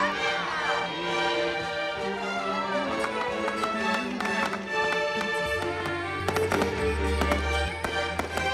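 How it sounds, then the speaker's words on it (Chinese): A fireworks display over a castle-style hotel in Hualien, Taiwan, heard nearby as a dense run of pops and crackling bursts, with deep booms building toward the end and music playing underneath. "近距离城堡烟火比跨年还漂亮"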